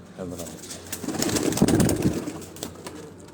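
Pigeons coo in soft, repeated rounded calls in a pigeon loft, with some brief clatter and a voice speaking nearby.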